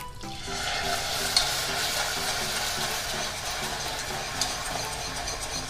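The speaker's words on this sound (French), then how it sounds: "Et je remue bien avec mon fouet." A whisk stirs hot cream into salted butter caramel in a saucepan, a close, continuous bubbling sizzle with a faint rhythmic scraping of the whisk, no talking.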